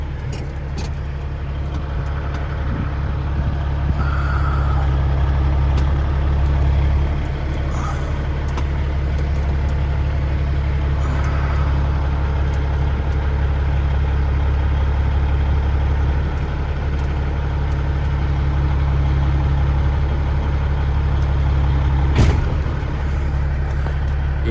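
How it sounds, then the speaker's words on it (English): Owner-operator semi truck idling with a deep, steady diesel rumble as it slowly backs up under its trailer, with a few faint clanks and a sharp hiss near the end. "We're gonna back up under our trailer now."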